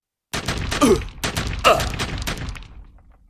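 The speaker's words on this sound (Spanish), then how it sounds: "una segunda ronda de disparos resonó" A rapid volley of gunshots cracks out in several sharp bursts, echoing and fading into a rolling tail.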